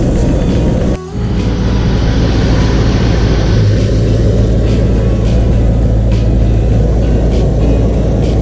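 Freshly rebuilt 1997 Land Rover Defender 4.0 V8 engine running at a steady idle, a loud, continuous close-up rumble with a brief dip in sound near the start.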